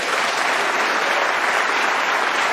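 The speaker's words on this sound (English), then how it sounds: "The applause from the mathematicians in the audience, they know that was frame and match ball." Loud, dense applause from the audience at a professional snooker match, a continuous roar of many clapping hands filling the arena without a break, heard alone.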